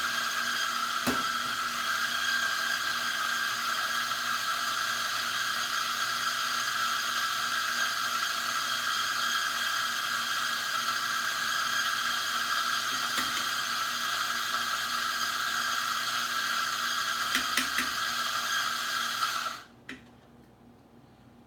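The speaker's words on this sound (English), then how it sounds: "So I'll get my espresso shot going." An espresso machine pulls a shot with a loud steady pump drone and faint ticks, running for about twenty seconds before cutting off abruptly.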